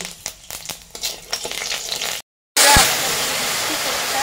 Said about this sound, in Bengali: বন্ধুরা, আমরা এবার ফোড়নটা দিয়ে দিচ্ছি।